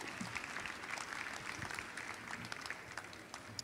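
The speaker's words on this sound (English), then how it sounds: "Give them a big round of applause." Audience applause at a 2018 youth livestock auction at a state fair, a steady faint patter of clapping hands from a crowd, continuous and fairly distant.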